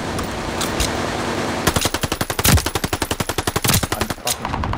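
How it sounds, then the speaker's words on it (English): Rapid automatic gunfire in the first-person shooter Call of Duty Vanguard during an online match, with a few scattered shots before a loud, sustained burst of evenly spaced rounds that runs to the end. "I'm fucking shooting, but it's lagging."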